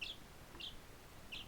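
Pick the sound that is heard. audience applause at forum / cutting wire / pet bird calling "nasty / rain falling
pet bird calling "nasty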